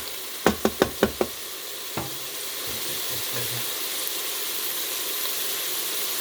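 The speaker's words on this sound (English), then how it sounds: "Give another stir." Black-eyed peas and collard greens stirred in a pot in a pressure air fryer: a quick run of five sharp knocks of a utensil against the pot, one more tap, then steady sizzling and steam hiss.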